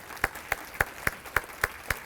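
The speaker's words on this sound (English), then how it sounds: "So please give them a round of applause." Applause from the audience at a chamber of commerce awards event: about seven evenly spaced, crisp claps in a steady rhythm, fairly faint and thin, with no talking over them.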